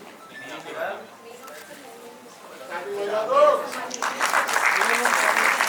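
Someone speaks at a Mission Shakti 5.0 women's welfare event, and the audience breaks into loud, sustained applause that swells in over the last seconds.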